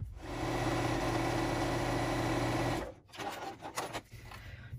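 A sewing machine stitching fabric pieces for a mug rug hums and clatters steadily for about three seconds, then stops, leaving soft handling rustles and small clicks.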